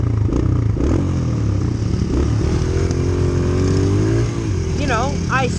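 A Kawasaki 250 dirt bike engine runs loud and close, holding a steady drone with slight rises in pitch.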